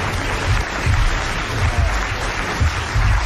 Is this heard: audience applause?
yes